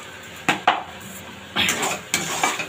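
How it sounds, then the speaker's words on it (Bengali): Mutton with spices is stirred and fried in a pan, a few sharp metal clanks and scrapes of a spoon over a soft background sizzle. "এবার এটাকে খুব ভালোভাবে কষাবো।"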